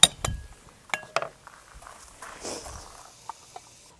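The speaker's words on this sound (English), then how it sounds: "Now what I'm going to do is put the lid back on" A metal lid clanks back onto a Dutch oven with a few sharp clinks, then softer handling noises and a faint hiss follow, close by and with no one talking.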